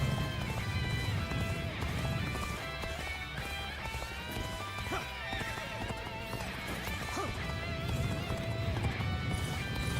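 Horse galloping in the Dynasty Warriors: Origins video game, rapid rhythmic hoofbeats with occasional neighs over a dense, busy battle soundscape, moderately quiet and steady throughout.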